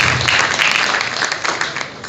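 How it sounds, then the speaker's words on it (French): An audience at the Nzonzinga Awards ceremony breaks into loud, dense applause, a continuous wash of clapping that fills the whole stretch. "Sous nos applaudissements, s'il vous plaît"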